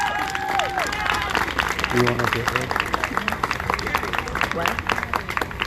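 Applause and cheering rise from a crowd at a live birthday celebration event, a dense continuous clatter of clapping with voices talking and calling over it throughout.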